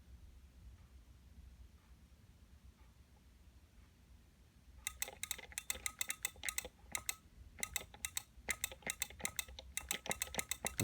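Rapid clusters of computer keyboard key presses, crisp and close, starting after a quiet stretch and continuing in irregular bursts of clicks.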